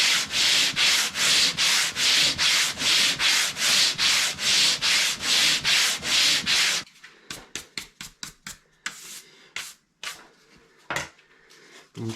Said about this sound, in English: I'm just going to continue sanding